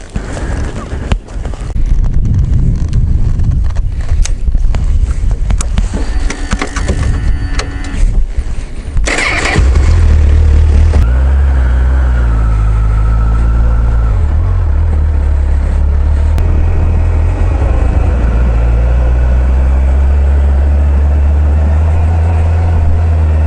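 A Honda CBF1000 motorcycle sits outdoors. Clattering mechanical noise comes first, then the engine catches at about nine seconds and settles into a loud, steady, low idle rumble that continues to the end.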